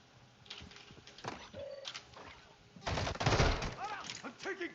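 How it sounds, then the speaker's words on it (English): Gunfire in the video game DMZ Warzone 2.0: scattered shots early on, then a dense, loud burst of automatic fire in the middle, with voices heard throughout. "I'm taking fire! Enemy in the area."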